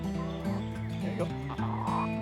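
Several chickens clucking and honking close by, overlapping calls in short bursts with a low drone beneath.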